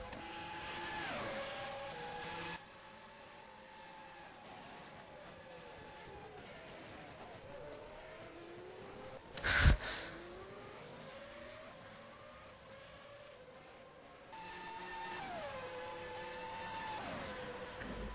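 Formula One cars in the rFactor F1 2011 sim at Montreal lining up on the grid, engines droning and revving steadily with rising and falling pitch, one sharp brief burst midway, continuous throughout.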